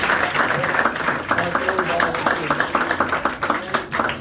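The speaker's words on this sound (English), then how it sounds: "A round of applause for our team." Audience applause at a magic show at House of Cards in Nashville, dense rhythmic clapping from a crowd, steady and fairly loud, with a voice speaking over it.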